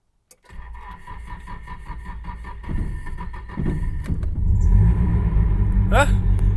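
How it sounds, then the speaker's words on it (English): A car engine cranks and catches on a cold start, then settles into a loud, steady rumble that swells slightly as it idles; a brief higher whine rises near the end. "This car hates cold starts, but let's see how it handles this one."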